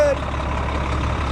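An old diesel truck engine idles steadily at close range, a low continuous rumble with no change in pace, running alone without talk.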